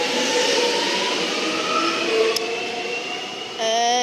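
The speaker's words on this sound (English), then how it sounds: "Okay, Flinders Street now departing." Departing Holmesglen station, a Metro Trains Melbourne service to Flinders Street pulls away with a moderate electric whine and rolling rumble, and brief tonal squeals rise over the steady hum.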